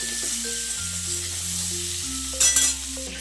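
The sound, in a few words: cauliflower frying in pan with salt and turmeric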